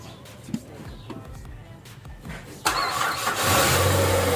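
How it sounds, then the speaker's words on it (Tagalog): A Ford Escape with a hard-starting problem cranks briefly with a few sputters, then catches and settles into a loud, steady idle close by. "Start natin ulit kung matagal pa bang umandar."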